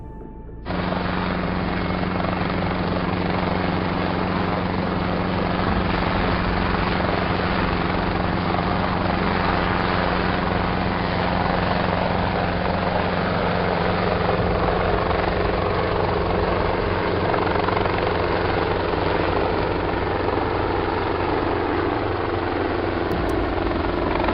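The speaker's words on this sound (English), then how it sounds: "a helicopter flew across the horizon, clearly below the strange lights" A helicopter flies across the horizon at night, its rotor and engine drone loud and steady for the full span, starting abruptly and holding a constant, continuous roar with no talk over it.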